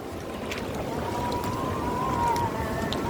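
Flash flood water rushing beneath the Gunung Nago bridge in Padang, a steady, loud, dense roar of churning water with wind buffeting the microphone throughout.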